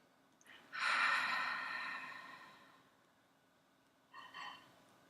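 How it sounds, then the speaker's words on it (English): Soft breaths during a guided breathing exercise: one long audible inhale-exhale that fades slowly, then a shorter breath a few seconds later, quiet and close with no speech. "go ahead with me and do those 3 long breaths now"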